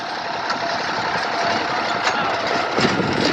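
A farm tractor engine idles steadily, a continuous rumbling drone with faint knocking running throughout, close and fairly loud.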